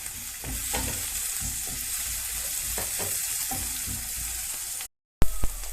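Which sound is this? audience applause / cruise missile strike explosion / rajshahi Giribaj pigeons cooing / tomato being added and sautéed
tomato being added and sautéed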